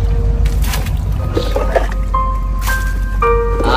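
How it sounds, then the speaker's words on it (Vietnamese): Someone bails water out of a leaking small wooden rowboat, producing wet sloshing and squishing scoops with dripping, and faint voices nearby. "ông Út đang tắt cái chiếc xuồng bên đây đi nha cả nhà"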